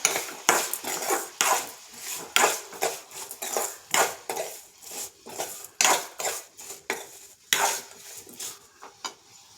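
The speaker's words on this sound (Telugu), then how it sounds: "ఒకసారి బాగా కలుపుకుందాం." A spoon scrapes and knocks around a pan while onion, tomato and garlic chutney is stirred, giving a run of irregular clattering strokes, close and fairly loud, with short pauses between them.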